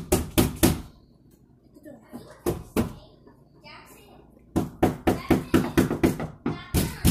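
A child repeatedly hits a door at home, sharp knocking thuds in quick bursts, first a cluster, a pause with scattered taps, then a longer rapid run of blows, with voices talking in between.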